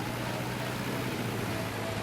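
Tractor engine in the game Farming Simulator 22 drones at a steady, constant pitch, a loud continuous low hum close up with no change in revs.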